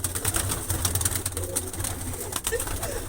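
Flock of pigeons let out from newly whitewashed lofts, cooing and fluttering close by in a dense, busy mix of bird sounds.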